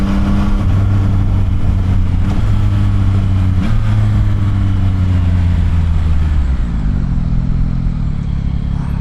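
Yamaha XSR 900 motorcycle engine with its factory exhaust, a steady, loud, somewhat muted low drone that rises and shifts pitch as the bike accelerates through the gears, with no voices.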